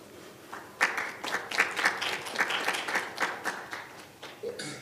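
A modest audience at a peace forum session gives a short round of scattered applause, a handful of distinct claps rising and fading, fairly quiet, with a voice faintly present.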